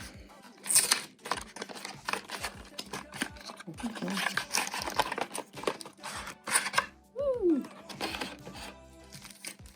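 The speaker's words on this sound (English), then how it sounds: "So let's unbox this thing." A Disney Lorcana starter pack is unboxed, its packaging crinkling, tearing and tapping in sharp bursts close to the microphone, while a person talks quietly between the handling sounds.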